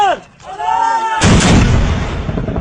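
Army gunfire: a loud, sustained burst of shots erupts after about a second and rolls on close and heavy, preceded by a brief shouted voice.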